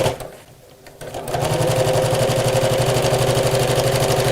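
A sewing machine stitches through bag fabric, running up to a steady, fast, close whir with an even rhythmic needle beat after a brief quieter start.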